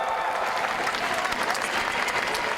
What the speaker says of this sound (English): Allez le public s'il vous plaît, applaudissements, tout le monde